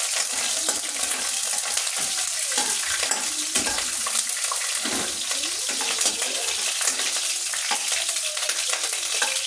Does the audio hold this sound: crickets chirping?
no